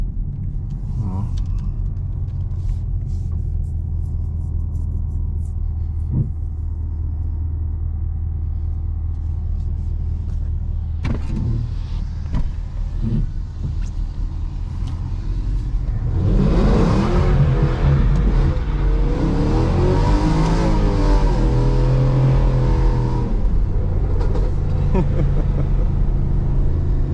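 A Chevrolet SS sedan cruises quietly on a smooth road on a rainy night, a low steady engine rumble, then the engine swells louder and rougher as the car swings through a turn; someone talks over it.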